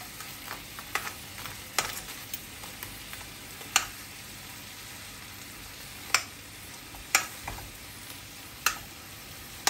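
Langoustines frying with garlic in a pan give a steady close sizzle, broken by occasional sharp clicks and taps as they are turned and stirred.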